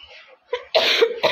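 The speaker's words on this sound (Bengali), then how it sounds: "কাশি উঠে দিচ্ছে আমার।" A woman coughs several times in short, harsh bursts, close to the microphone, separated by brief pauses.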